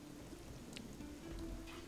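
Steady in-game rain in Stranger of Paradise Final Fantasy Origin, a faint, even hiss of falling drops that carries on without a break for the whole moment.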